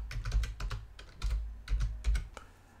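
Rapid close clicking of keys on a computer keyboard in short irregular bursts, typing a word into a search box on a PC, with no voice.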